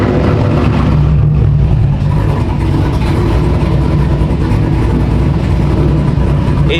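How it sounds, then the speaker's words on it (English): A Corvette engine warms up at a car meet, its loping idle rumbling loud and close in a continuous, slightly uneven throb with no talk over it. "I'm gonna let the car warm up real quick."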